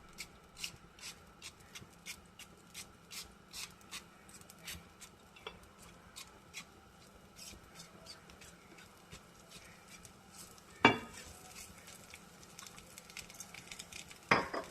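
Oil crackles and spits quietly under a drumstick leaf dosa on a hot pan, a scatter of small, close pops over low background, with a couple of sharper clatters later.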